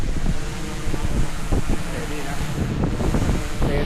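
Strong wind rushes across the microphone in a loud, steady roar, with indistinct voices faintly beneath it, beside Laguna Lake, Philippines.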